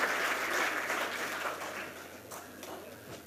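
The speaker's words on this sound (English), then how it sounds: "may I once again request you for a big round of applause" Round of applause from the audience at a textile industry summit technical session, sustained dense clapping at a moderate level that gradually eases with a few distinct claps near the end.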